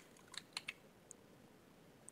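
Typing on a computer keyboard while searching a self-service portal and catalog: a few quiet, scattered keystroke clicks with pauses between them, faint and close over a low background hiss.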